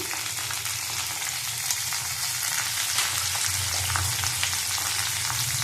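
Vegetables frying in oil with salt and turmeric, a loud, dense, continuous sizzle heard close up over a low hum, with faint stirring clicks and no speech.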